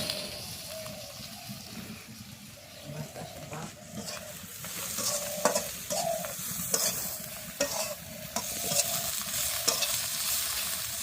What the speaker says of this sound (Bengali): শুরু হয়ে গেছে আমগোদের শুটকি মাছ ভাজা ভুজা